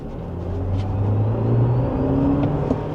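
A GWM Cannon Alpha Hi4T plug-in hybrid ute accelerating in sport mode on a country road, a steady close engine and motor drone that swells in the middle and eases off, with no talk over it.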